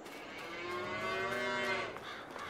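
Cattle in a farming video game let out a single long, drawn-out moo, clear and fairly close with nothing else around it.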